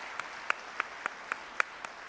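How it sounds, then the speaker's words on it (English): A few sparse, distinct hand claps ring out faintly, about eight separate sharp claps spaced unevenly, honoring the Old Guard at an Army retirement review. "Let's give them a round of applause."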